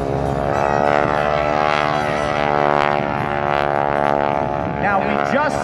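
Propeller aircraft of an aerobatic wing-walking team passing at an air show, a loud, continuous droning engine tone that swells slightly throughout, with a voice talking over it.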